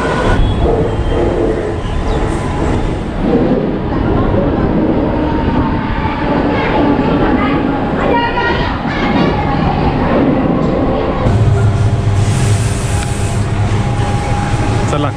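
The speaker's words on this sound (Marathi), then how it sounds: "urban line train" A Mumbai urban line local train passes close by at a station platform, its loud, continuous rumble and rattle of wagons filling the whole stretch, with a brief squeal of wheels near the end.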